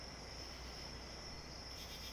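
Crickets chirping at night in the woods, a faint, unbroken high trill that holds steady throughout with no other sounds.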